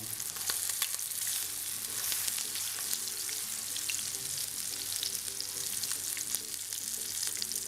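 Chicken sizzles steadily in hot oil, a dense crackling hiss with scattered pops throughout, close and continuous with no talking.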